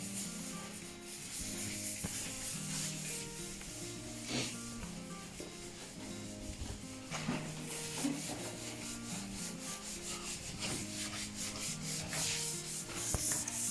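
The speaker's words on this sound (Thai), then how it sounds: "เป็นการลงขัดกระดาษทรายก่อนครับ" Steady scratchy rubbing of sandpaper on a surface, repeated back-and-forth strokes, fairly quiet and close, with no talking.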